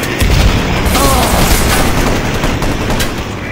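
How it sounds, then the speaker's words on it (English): A grenade blast in Enemy Territory Quake Wars on the Salvage map, a loud booming explosion with a dense rumble that stays heavy for several seconds amid ongoing gunfire, with no voices. "Grenade!"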